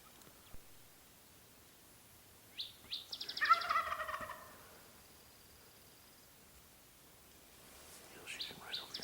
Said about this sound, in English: Finally gave one soft call when we got close to this gobbler